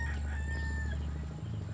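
Rooster crowing close by at a farm chicken coop, a single drawn-out call with clucking hens and low farmyard murmur underneath.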